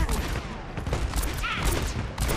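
Dense, rapid gunfire from the Overwatch video game, a sustained rattle of shots with brief gaps, mixed with game effects and a player's voice.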